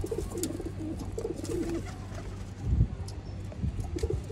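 Sialkoti pure Chuhe breed pigeons coo softly and repeatedly in a low, throaty rhythm, with a steady murmur of birds in the background and one louder burst near the middle.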